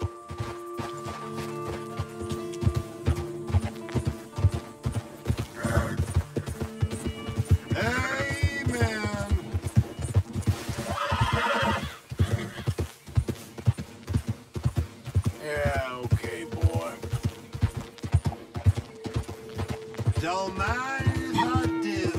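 Rhythmic hoof clip-clop runs steadily throughout in Red Dead Redemption 2, with a couple of horse whinnies rising over game music and ambience; no clear talk.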